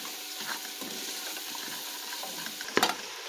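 Whole green chillies and green onion fry in hot oil for chana dal, with a steady sizzle running throughout. Scattered utensil scrapes and taps punctuate it, and a sharper clatter comes near the end.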